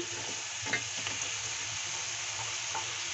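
Chopped capsicum drops into potatoes already frying in spices, setting off a steady close sizzle with a few brief stirring scrapes and soft clatters near the start, and no voices.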